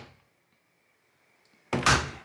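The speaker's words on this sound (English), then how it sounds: "we're gonna do a series of openings and closings of the door." A Zanussi washing machine door is shut once with a single firm thunk near the end, close by, after near silence.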